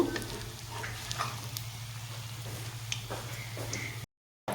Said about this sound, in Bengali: বাকিগুলো আমি এভাবেই ভেজে নেব লো টু মিডিয়াম করে